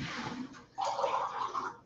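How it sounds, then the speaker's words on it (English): Water pours into a measuring cup for a kids' measuring activity, first a soft trickle and then a steadier, brighter splashing stream. It is close and fairly quiet, with no talk. "So when we're measuring water with the kids, let me see if I can get enough in here."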